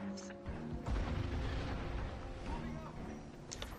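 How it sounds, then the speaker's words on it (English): Deep, rumbling explosions boom one after another in the shooter game Crysis, heavy low-end blasts rolling for several seconds while a voice talks faintly over them. "All the explosions."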